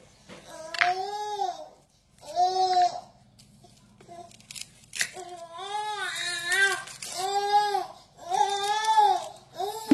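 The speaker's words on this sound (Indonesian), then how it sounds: "Suara bayi realistis" A baby cries in repeated wailing bursts with babbling and whimpering sounds between them, loud and close, with short pauses separating the cries.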